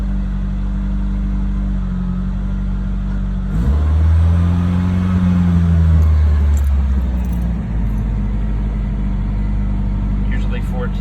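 A car engine, its fan belt replaced with nylon stockings, cranks and catches, revving up briefly before settling into a steady idle, loud and close.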